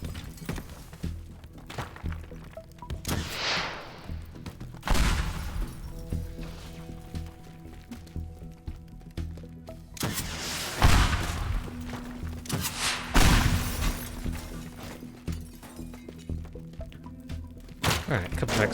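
Explosions in the video game Teardown give several heavy booms and crashing thuds spread across the stretch, with crumbling debris and rumbling between them.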